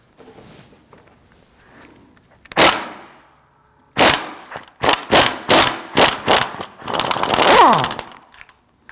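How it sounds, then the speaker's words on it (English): A 21mm strut nut on a 2001-2009 Volvo S60 is loosened with a pneumatic impact wrench, which fires one short burst and then a run of loud, close, rattling hammering bursts with short gaps between them. "Now this is a 21mm. I'm going to loosen this nut."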